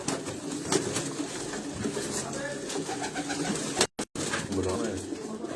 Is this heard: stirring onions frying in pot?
no